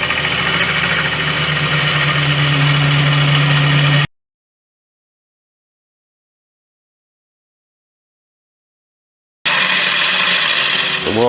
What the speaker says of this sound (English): I'm going to sharpen this gouge again